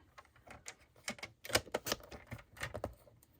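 Paper being cut for a handmade card from a Paper Pumpkin kit: a run of crisp, close snips and clicks in an uneven rhythm, with no talking.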